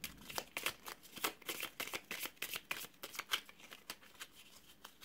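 Animal totem oracle cards are shuffled by hand in a quick run of soft, papery riffling slaps, close and quiet, with no talking.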